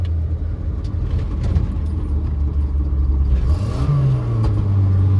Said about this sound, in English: There's a high RPM downshift.